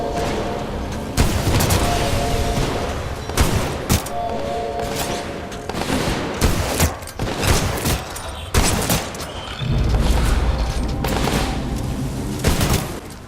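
Shotgun blasts from a long-barreled weapon in the first-person shooter Titanfall 2, a dozen or so loud booming shots at irregular intervals amid continuous combat noise, with brief voice lines in between.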